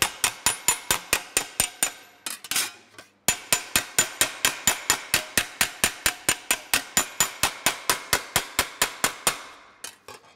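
Hammer flattening a butt-welded steel car body panel, a fast, steady run of sharp metallic strikes close up with a brief pause partway through, no talking.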